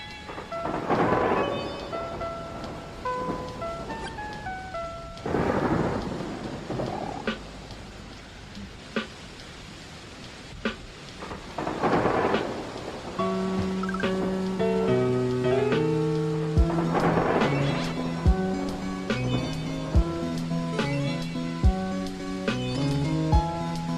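A thunderstorm with steady rain, repeated thunder rolls rising and fading about every five seconds over constant rainfall, with tonal musical notes layered in throughout.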